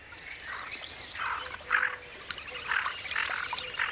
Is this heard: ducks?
yes